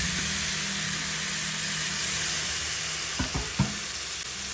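Potatoes and cauliflower for an Indian curry fry in a pan with a loud, even sizzle that hisses steadily throughout, and a few soft clunks and scrapes toward the end as pieces are moved.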